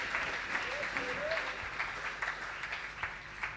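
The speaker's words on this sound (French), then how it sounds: "Mettons-nous et acclamons très fort pour la gloire de Jésus." A church congregation claps during a worship service, dense sustained applause with scattered sharper claps, and voices talking and calling out over it.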